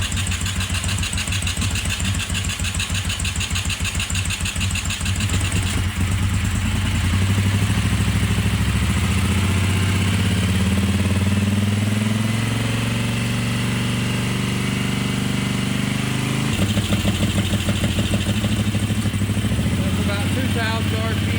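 A motorcycle engine idles and revs to around 3,500–4,000 RPM during checks on the motor, close and loud, with rising and falling engine pitch while someone talks over it.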